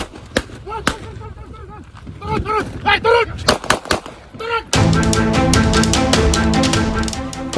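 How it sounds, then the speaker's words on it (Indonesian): Police in Majalengka, West Java fire warning shots into the air: several loud, sharp bangs ring out between raised voices, followed by a dense, continuous wash of noise. "memberi tembakan peringatan ke udara"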